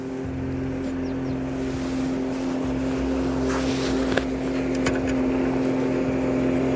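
A steady water scooter motor drones nearby on a lake in November with a constant hum, water slapping and wind rushing over it, no speech.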